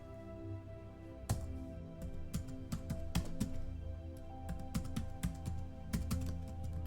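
Typing code on a computer keyboard, with close, crisp key clicks coming in irregular bursts and short pauses over a low background hum.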